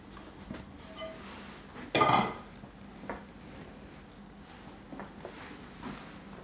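Shepherd's pie filling tipped into a pan with one soft, dull thud and scrape, followed by faint clinks and light utensil taps in a quiet kitchen.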